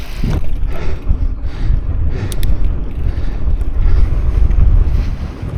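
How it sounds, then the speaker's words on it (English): Strong wind buffeting the microphone during a slow uphill bike ride, in loud, continuous low roaring gusts, with no voices present. "Really windy"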